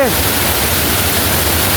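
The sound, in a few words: waterfall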